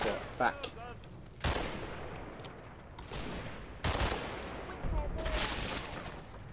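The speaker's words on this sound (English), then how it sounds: "he's getting a face full of MG42 back" MG42 machine gun fire in a WWII war video game, with loud bursts of rapid gunfire and fusillades over a rumbling battlefield, while a person talks over the action.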